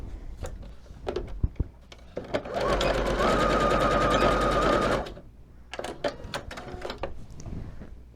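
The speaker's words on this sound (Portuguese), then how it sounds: "essa prega, eu só faço uma costurinha de cima pra baixo aqui" A sewing machine runs a single steady burst of stitching, about two and a half seconds long, down a pleat on a doll-size polo shirt, with close handling clicks and fabric taps before and after.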